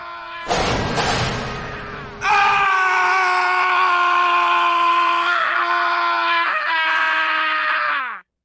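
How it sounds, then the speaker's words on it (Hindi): A loud, sustained scream with a harsh burst at the start, then a long high wailing scream that holds steady for several seconds before cutting off, inside an old mansion. "चीखने की आवाजों से पूरी हवेली हिलने लगी।"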